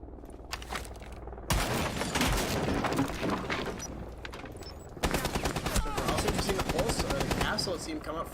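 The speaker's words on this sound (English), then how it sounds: "put a few bullets into the back of that Jackal" Rapid video game gunfire in dense bursts, fired into the back of a Jackal during a top-floor firefight, loud and continuous with a sharp jump in intensity midway.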